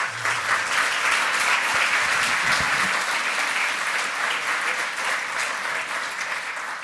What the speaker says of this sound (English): please give a round of applause to the speaker